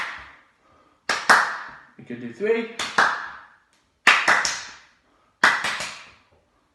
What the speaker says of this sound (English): you're going to do 1 clap before you catch it